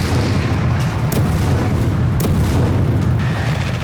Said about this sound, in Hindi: गाजा पर बारूदी प्रहार कर रही है।